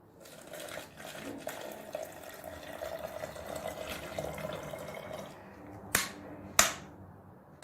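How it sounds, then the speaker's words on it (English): Water is poured into a container as a steady close splashing rush lasting about five seconds, then two sharp knocks ring out near the end. "Now you can see I want to add water to it."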